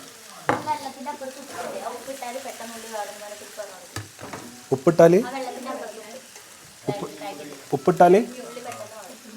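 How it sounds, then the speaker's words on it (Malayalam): Chopped onions fry and get stirred in a crowded pan for a horse-meat biryani, a steady sizzle with scraping stirs that swells near the end, under close talk. "ചട്ടി ഇങ്ങനെ ഏറ്റു വാങ്ങുന്ന രീതിയിൽ നമ്മൾ ഉള്ളി ഇട്ടെടുക്കാം."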